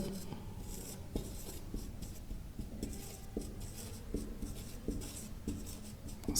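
A heading written by hand: close, steady scratching strokes with short pauses between words, continuous for several seconds with no talking.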